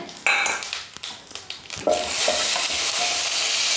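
Whole spices such as bay leaves, a cinnamon piece, cloves, black peppercorns and cardamom frying in hot oil for a mixed vegetable dish, with a few clinks and stirring scrapes before a loud, dense sizzle that holds steadily to the end.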